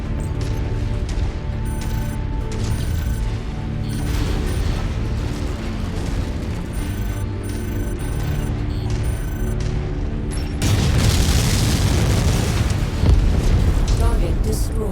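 Missiles launching and detonating in MechWarrior 5, fired from a Centurion mech: booming blasts over a steady mechanical drone and game music, with a heavier, brighter burst of explosions swelling near the end.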